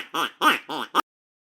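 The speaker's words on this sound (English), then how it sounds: "Yes, it's duck." A duck gives four loud, nasal quacks in quick succession, close and alone, the last one clipped short.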